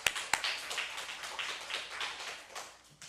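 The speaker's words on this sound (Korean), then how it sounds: "하나님께 영광의 박수 돌리겠습니다." Church congregation applauding together, a soft, steady patter of many hands clapping for a few seconds.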